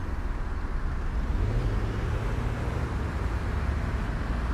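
Other cars' engines around a Digibus Mirage bus in the OMSI 2 simulator, a constant loud low engine rumble and road drone that does not let up, with no voices.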